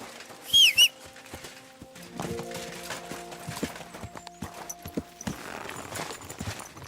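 Hooves clip-clop along steadily in a Kingdom Come: Deliverance II game scene, with a short horse whinny near the start and a soft musical drone underneath.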